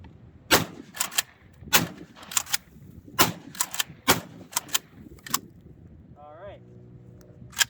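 A Savage Stevens 320 shotgun is worked, with a string of sharp, close clacks and metallic bangs from the action and firing, spaced irregularly over several seconds before a voice speaks near the end.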